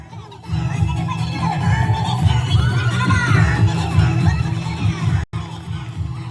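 An outdoor festival crowd at a Home Minister Paithani game at the Dronagiri Mahotsav cheers a second-prize winner. Loud, sustained shouting and whooping mixes with some children's cries and nearly cuts out briefly near the end.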